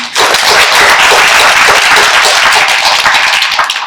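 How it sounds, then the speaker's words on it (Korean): Loud, sustained applause from an audience at a policy debate forum on the Korean animation industry, dense clapping filling the whole stretch without pause. "박수 한번 보내주시죠"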